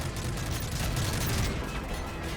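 Dense, continuous gunfire with booming RPG explosions from the 2011 video game Call of Duty: Modern Warfare 3, a loud, steady wall of battle noise throughout with no talking.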